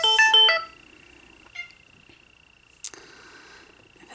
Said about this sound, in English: my phone's going to start ringing on top of everything else